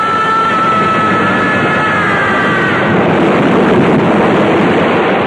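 Waves crash on a beach along the south coast in a steady, loud, unbroken roar of surf, with no pauses and no voices.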